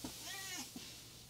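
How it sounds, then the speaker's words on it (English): A domestic cat meows once, a short rising-and-falling cry close by with a faint second call after, while low room noise runs underneath. "These cats are so big."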